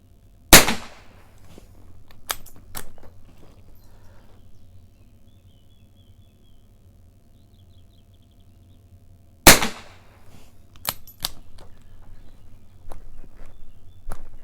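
A suppressed Welrod .32 ACP pistol at an outdoor range, two sharp muffled shots about nine seconds apart, each followed by softer mechanical clicks and handling sounds, with faint birds in the background.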